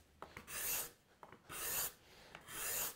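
A hand scraper draws thin shavings off a curved wood surface in three distinct scraping strokes, each a close, airy rasp with small taps between passes, fairly quiet and with no talking.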